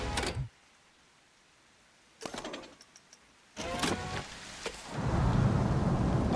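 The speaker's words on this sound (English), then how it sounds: "Oh, it's raining." Rain and thunder in a video game: a few sharp, crackling bursts break a quiet stretch, then a steady, loud hiss of rain swells and fills the last seconds, with no talking.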